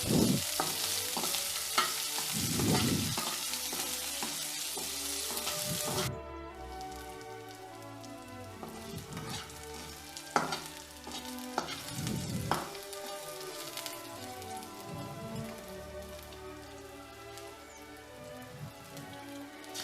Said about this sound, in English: Fry it till it becomes soft and changes color.